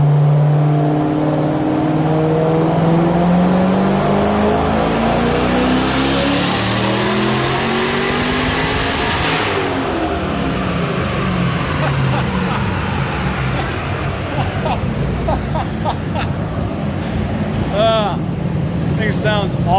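A turbocharged V8 in a Mazda FC RX7 on a dyno during a 12 psi boost pull: the engine revs climb in one long loud sweep to a peak, then wind down with turbo whine and crackles, close and alone.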